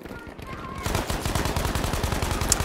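Machine gun fire from a Battlefield V match, a continuous rapid burst of shots that starts partway in and keeps going loud and close to the end with no pause.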